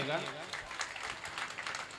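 An audience at a Hindi comic poetry gathering (hasya kavi sammelan) in Ashok Nagar claps in a fairly faint, brief patter of applause, mixed with crowd noise.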